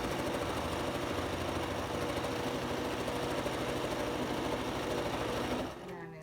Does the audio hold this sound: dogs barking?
no